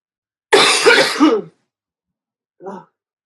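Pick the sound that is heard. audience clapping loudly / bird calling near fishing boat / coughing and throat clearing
coughing and throat clearing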